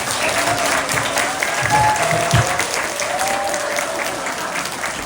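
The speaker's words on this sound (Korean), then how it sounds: "큰 박수 부탁드립니다" A hall audience at a lecture gives a loud, sustained round of applause that fills the room evenly, with a few faint voices briefly rising beneath it.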